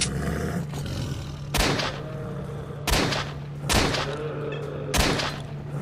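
Gunshots in the shooter game S.T.A.L.K.E.R.: Shadow of Chernobyl: four or five loud, sharp single shots spaced roughly a second apart, each with a short decaying tail over a steady background hum.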